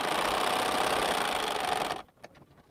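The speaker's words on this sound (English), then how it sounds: "I'm going to sew from the edge to that seam, and then I'm going to stop and readjust." Sewing machine stitching a quilt block seam, a close, steady mechanical whir running for about two seconds before stopping abruptly, followed by a few faint clicks and handling noises.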